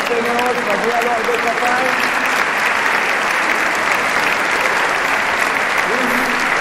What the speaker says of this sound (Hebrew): כפיים.